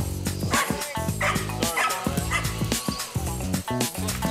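Candy, a rescue dog, barks repeatedly in sharp, close bursts mixed with yips and whimpers, over an uneven rhythm with short gaps between volleys.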